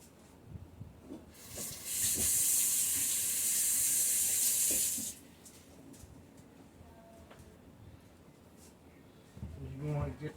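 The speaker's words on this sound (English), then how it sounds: "Let me wash my hands real fast." A sink tap runs for about three seconds as hands are washed in a home kitchen, a bright steady rush of water that starts and stops abruptly, with quiet background sounds around it.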